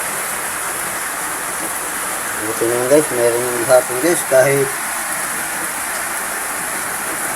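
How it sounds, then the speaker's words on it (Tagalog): Heavy rain hisses steadily and loudly throughout, with someone speaking briefly over it midway through. "Malakas ang ulan."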